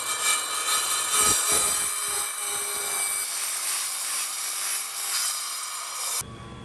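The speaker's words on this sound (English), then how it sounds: "show you how we're gonna cut this 1/4 inch thick glass tile" A saw grinds through quarter-inch thick glass tile with a close, steady, hissing buzz and a few brief scraping shifts, then cuts off abruptly near the end.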